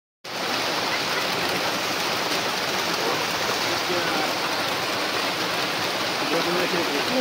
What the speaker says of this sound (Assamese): এয়া এইটো হৈছে নদী, ইমান ধুনীয়াকৈ পানী গৈ আছে